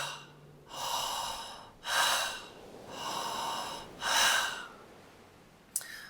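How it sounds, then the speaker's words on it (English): Forceful heating breaths from a breathing exercise come one after another: four long, loud, close exhalations evenly spaced, then a short sharp sniff at the end, with no speech. "if you hold a hand up to your mouth, you can feel the heating nature of this breath"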